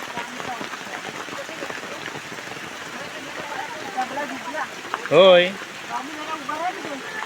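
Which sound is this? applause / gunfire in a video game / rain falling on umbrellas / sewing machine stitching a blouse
rain falling on umbrellas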